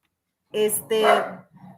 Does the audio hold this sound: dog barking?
yes